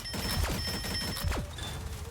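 The Punisher fires in the Marvel Rivals hero shooter, two heavy impact-like blasts about a second apart, each with a sweeping tail, over a busy game background.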